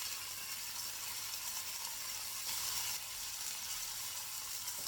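Ginger garlic paste sautés with onions in a pan for keema karahi, making a continuous soft hiss and sizzle that holds steady and fairly quiet with no voices.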